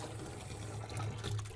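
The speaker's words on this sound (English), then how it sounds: "rinse your pad under the running water" Water running from a tap as a foam polishing pad is rinsed under it: a steady, close hiss and splash with no pauses and no talk.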